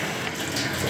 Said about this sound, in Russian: Включаю воду.